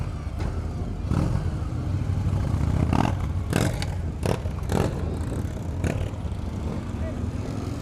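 A Victory Hammer 8-Ball motorcycle engine runs during a test ride at the Progressive Motorcycle Show, a low steady hum under sharp intermittent clattering bursts, with faint background voices.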